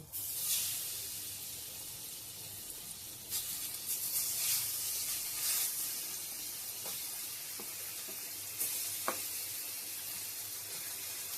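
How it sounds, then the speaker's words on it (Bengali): Seasoned olives for pickle tipped into hot oil in a pan, giving a quiet, steady sizzle broken by a few sharper crackles and bursts of spatter, with no talking. "জলপাইগুলো যে মেখে রেখেছিলাম সেটা এখন তেলের মধ্যে দিয়ে দেব"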